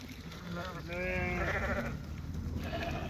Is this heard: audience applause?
no